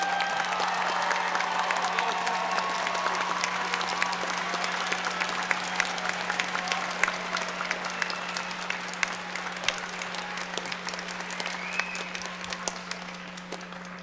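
A large crowd at a high school commencement applauds and cheers the graduating class of 2022, a dense, sustained wash of clapping with scattered whoops, steady throughout and fairly far off, with a constant low hum underneath.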